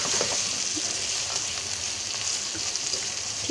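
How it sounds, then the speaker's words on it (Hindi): Chicken karahi frying in a pan makes a constant bright sizzle and hiss from start to finish, with a few soft stirring taps underneath. It sounds close and steady, and no one speaks. "अच्छे से हम इसको फ्राई करेंगे"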